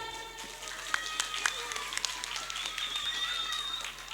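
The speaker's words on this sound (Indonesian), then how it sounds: "tepuk tangan." Applause from an audience at an Islamic school graduation ceremony for Juz Amma memorization, honoring a student after a Quran recitation question; steady, moderately distant clapping throughout with a few sharper claps standing out.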